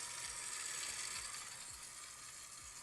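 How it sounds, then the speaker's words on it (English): Barbecue wings sizzle on a smokeless grill, a faint, steady hiss of frying that runs unbroken throughout. "Oh, there's the sizzle."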